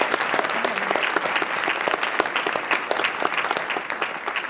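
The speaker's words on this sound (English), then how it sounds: "Let's give all of our panelists and our speaker a round of applause." An audience at a women-in-entrepreneurship event applauds panelists and a speaker, a loud, steady burst of many hands clapping that carries evenly through the clip.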